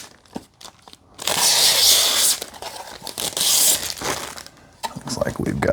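Plastic wrap is torn and crinkled off a Western Digital hard drive in two loud, close bursts of ripping and crumpling, with a person talking around them.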